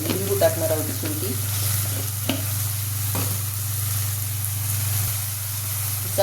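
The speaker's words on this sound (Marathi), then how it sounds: "चांगलं परतून घ्यायचं." Onion, tomato and spices sauté in a hot pan with a steady sizzle and frying hiss, broken now and then by soft scraping stirs of a spoon.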